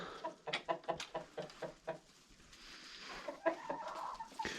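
Chickens, among them white hens and a young rooster, cluck in short repeated bursts inside their coop, near and fairly quiet, with a few sharper calls toward the end.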